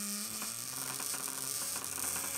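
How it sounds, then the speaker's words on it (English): A small toothbrush-based robot prototype driven under finger-pressure control whirs and ratchets mechanically with a steady motor hum, its buzzing pulsing irregularly as it moves, close and alone with no voices. "see what happens to the toothbrush robot"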